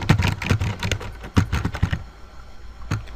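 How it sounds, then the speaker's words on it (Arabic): Someone types a password on a computer keyboard, a close, quick patter of key clicks in two short bursts separated by a brief pause, then a single final keystroke. "سنقوم بكتابة كلمة المرور"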